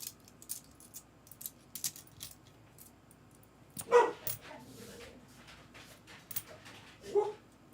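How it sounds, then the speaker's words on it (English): Faint clinks and taps give way to a single sharp dog bark, then a softer second bark a few seconds later, in a quiet room. "What are you barking at?"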